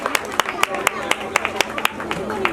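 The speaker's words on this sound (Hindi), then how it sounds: "जोरदार तालियां बजाएंगे।" Audience clapping at an award ceremony during a Jain Paryushan festival event, sharp individual claps landing in a loose rhythm, fairly close and loud over a murmuring crowd with voices underneath.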